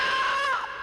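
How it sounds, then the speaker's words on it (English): A ghostly shriek effect for the haunted Berry Pomeroy Castle: a brief, loud, wavering high-pitched wail lasting under a second, slowly fading at the end, with no talking. "Ghostly shrieks are heard,"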